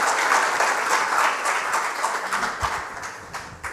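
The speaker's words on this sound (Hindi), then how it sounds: "मैं चाहूँगी कि हम ज़ोरदार तालियों के साथ उनका अभिनंदन" Loud audience applause at a cultural heritage festival at IIT Kanpur, welcoming a speaker; dense continuous clapping that thins slightly toward the end, with a few sharper individual claps standing out.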